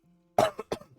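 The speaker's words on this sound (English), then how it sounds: "Just coughed." A single sharp cough bursts out close by after a moment of quiet, followed by a second smaller cough, with no talking.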